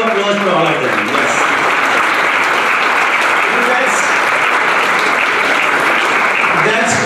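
Loud, sustained applause fills a conference hall at a Hindu media conference session, with voices mixed in beneath the steady clapping.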